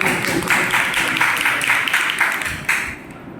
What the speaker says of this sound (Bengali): ভাইয়ের জন্য একটা হাততালি দিয়ে আমরা।